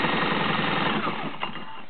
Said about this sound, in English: I'm going to spin the motor with a electric drill